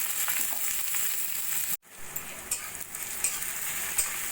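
Thinly sliced onions hiss and sizzle in hot oil in a wok, a loud steady fry with stirring scrapes, briefly cut to near silence partway before the sizzling resumes.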